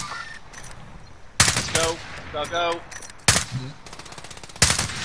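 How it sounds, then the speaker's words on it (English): Rapid automatic gunfire from the Warzone video game comes in several loud, sharp bursts spread across the moment, with a player's voice briefly heard between them. "Someone's shooting me."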